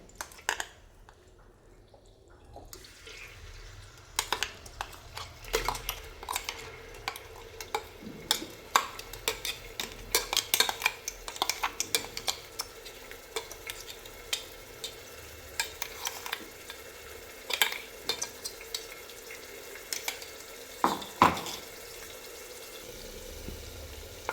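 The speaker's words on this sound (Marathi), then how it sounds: "मसाला छान परतून घ्यायचा आहे तेलामध्ये." Ground black masala sautéed in hot oil inside a pressure cooker, with a soft continuous sizzle broken by frequent spoon scrapes and clicks against the metal throughout.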